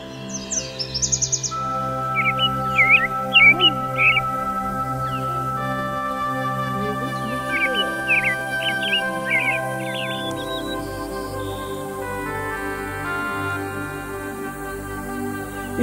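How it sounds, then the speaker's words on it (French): Birds singing at the Saut du Doubs in the Jura, including a brambling, with repeated bright chirps and short song phrases over a steady background hum and a distant tonal siren-like drone, no talk. "Ici, les oiseaux sont nombreux."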